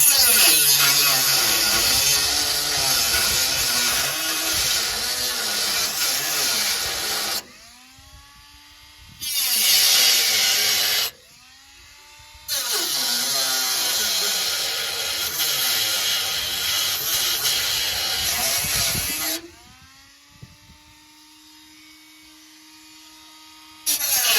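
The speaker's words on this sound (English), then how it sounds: "Using the old Dremel. Cut this top piece away." A Dremel rotary tool cutting rust out of a 1973 VW body panel gives a loud, high, steady grinding whine in several long bursts, with short pauses where the motor winds down.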